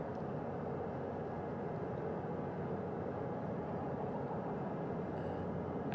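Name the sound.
helicopter landing carrying Artemis 2 crew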